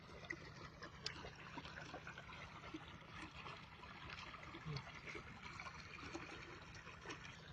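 Water trickles and dribbles softly and continuously, a faint, steady flow with small splashy ticks and no clear talk over it.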